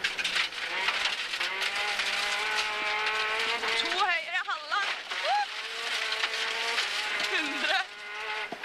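Rally car on a special stage of the 2018 Hurumsprinten sprint, its engine roaring loud and close from inside the car with rising and falling revs. Voices shout over the engine near the middle.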